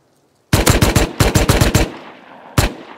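Rapid gunfire in a shooter video game: a burst of about five loud automatic shots, a short pause, another burst of about five, then a single shot after a gap, all close and with no talk over them.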